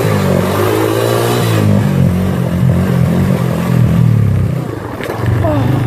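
Dirt motorcycle revving hard through a wheelie on a trail, its engine roaring steadily close by for several seconds, then briefly easing before picking up again.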